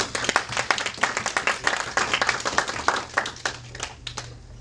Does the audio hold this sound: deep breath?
no